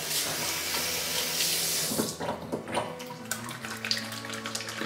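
Water runs steadily from a tap into a hotel washroom sink, a loud continuous gush for about two seconds, then softer, uneven splashing and trickling as the flow changes.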